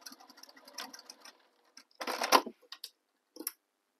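A sewing machine stitches fabric at a corner of a tote bag, short quiet bursts of rapid needle patter separated by pauses, close and alone.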